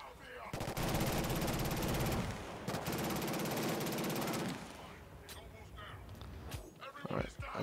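Loud, sustained automatic gunfire from the Killzone Shadow Fall video game rattles for about four seconds with a brief break, then gives way to scattered quieter shots and clatter.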